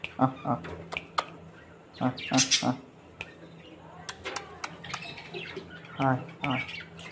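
A pet bird squawks in sharp, repeated bursts beside its wide-open cage, calls mixed in with close human voices talking over and between them.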